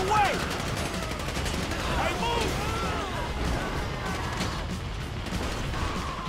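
Rapid bursts of gunfire in GTA V ring out steadily across the scene, dense automatic shots mixed with crashes and vehicle noise, while a voice talks over the action.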